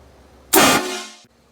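A Hornblaster train horn mounted on a vehicle gives one loud, close blast of about three-quarters of a second. Its brassy tone fades out as the air pressure drops.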